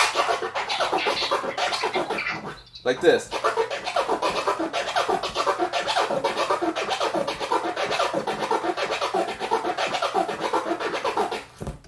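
Turntable scratching in a regular three-click pattern: dense, even, rapid rasping strokes running almost continuously for about twelve seconds, with a brief break near the start and a short spoken remark.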